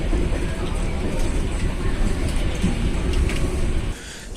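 The KA Logawa passenger train rolls along in a steady, broadband rumble heard from on board, holding level before dropping off near the end.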